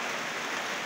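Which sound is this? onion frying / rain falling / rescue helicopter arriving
rain falling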